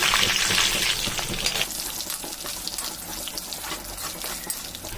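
Urad dal, chana dal, cumin, dried red chillies, curry leaves and garlic sizzle in hot oil for a tempering, a close, steady crackling hiss that is loudest in the first moments and then settles to an even fry.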